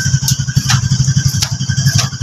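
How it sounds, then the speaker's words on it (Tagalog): A Euro 175 motorcycle engine running with a steady rapid knocking like a failing connecting rod, loud and close, with metallic clatter over the throbbing idle. "Tunog connecting rod yung ingay ng kanyang motor."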